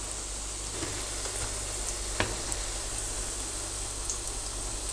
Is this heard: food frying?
yes